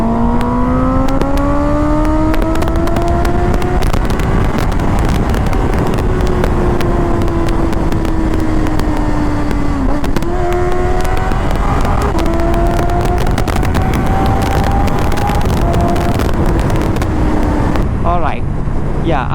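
A Honda CBR 650R motorcycle runs along an open road with a steady, loud engine drone whose pitch rises gradually, dips briefly near ten seconds, then climbs again, with constant wind rush throughout.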